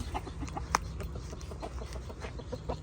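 Chickens kept in a home coop cluck softly and intermittently in the evening, with a few sharper clucks standing out over a low background rumble.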